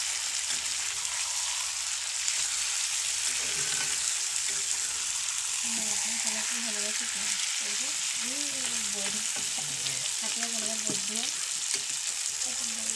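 Whole onions fry in oil in a pan, a dense, constant sizzling hiss that stays close and steady, with a voice speaking softly underneath during the second half.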